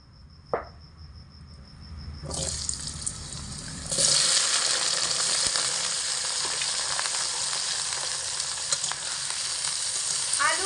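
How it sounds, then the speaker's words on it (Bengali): Diced potatoes dropped into hot mustard oil in a wok burst into a loud, dense, continuous sizzle that jumps up sharply partway through and holds steady, close to the pan. "গরম তেলের মধ্যে ডুমো ডুমো করে কেটে রাখা আলুগুলোকে দিয়ে ভেজে নেবো"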